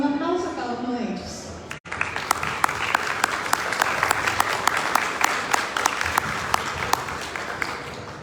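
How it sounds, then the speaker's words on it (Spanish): Someone speaks briefly, then an audience in a hall bursts into steady, dense applause honoring authors at a book launch for a youth collection of world literature, sharp individual claps standing out and continuing to the end. "Decimos un aplauso a cada uno de ellos."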